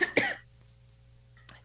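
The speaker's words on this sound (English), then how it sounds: "I'm just going to cough for a second" A person coughs once sharply and closely, with a throat-clearing rasp, then a faint small second sound follows over a quiet low hum; no talking.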